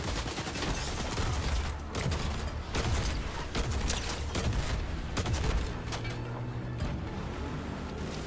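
Rapid, dense bursts of launcher turret fire in Fortnite, loud and close, with repeated booming shots and mechanical clatter running almost continuously.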